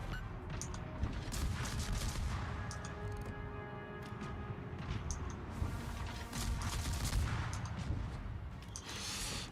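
Naval guns firing in the World of Warships video game, rapid repeated booms and cracking shots from small high-explosive guns layered over a steady rumbling background, dense and continuous, no one talking.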